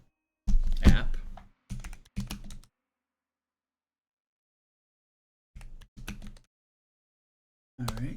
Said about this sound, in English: you want to type in Xbox accessories app